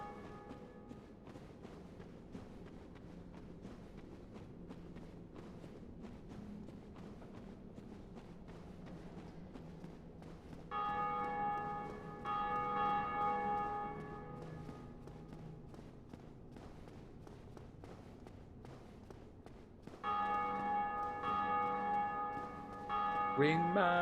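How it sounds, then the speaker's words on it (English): A large bell in the Dark Souls video game tolls twice, each deep, ringing strike rising over a low ambient rumble and slowly fading. "So hey, let's go ring that other bell."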